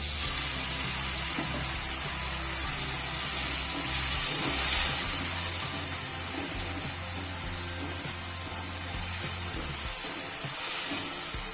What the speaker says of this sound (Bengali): অল্প পরিমাণে একটু জল দেবো।